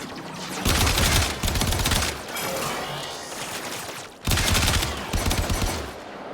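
Fireworks going off in rapid crackling bursts, loud, dense volleys with a short lull in the middle before another barrage.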